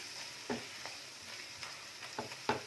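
Spices and Kashmiri chilli fry for mutton keema under a soft, constant sizzle. Several short stirring scrapes land at irregular moments.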